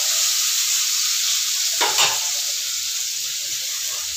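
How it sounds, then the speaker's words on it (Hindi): Vegetables frying in a pan give off a loud, steady close sizzle with a brief stir-like rustle near the middle, and no one speaks. "ये देखो ये फ्राई होने में बहुत टाइम लगता है एकदम रेड रेड हो जाएगी ना तब जाके ये फ्राई होगा"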